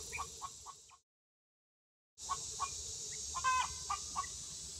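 Farm chickens on fresh grass clucking in short repeated bursts, with a brief total dropout of sound in the middle before the clucking and a faint crow-like call resume.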